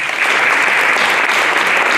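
A school audience applauds newly inducted math honor society members, steady and dense clapping that fills the hall at an even volume throughout.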